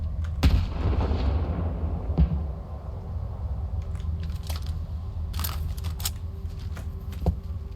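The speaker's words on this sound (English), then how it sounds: "see if I can toss a nade up there" A grenade thrown in the video game Stalker 2 bursts with a heavy, booming blast early on, then dull rumbling in-game ambience with a few sharp clicks and rattles.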